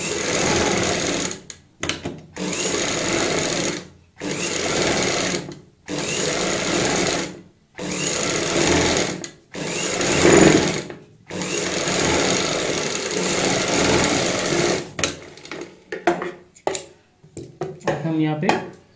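A close, loud sewing machine stitches around a kurti neckline in repeated bursts of fast needle hammering separated by short stops, with small handling noises toward the end.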